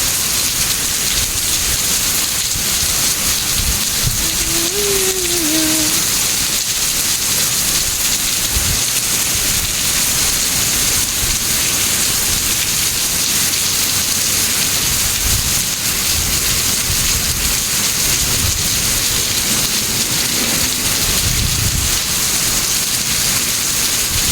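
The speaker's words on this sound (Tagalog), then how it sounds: "Sarap pakinggan yung sound ng ulan. Nakaka-relax. Relaxing, raining sound." Steady, heavy rain pours down in Singapore in a constant dense hiss, broad and unbroken, with a few faint low rumbles underneath.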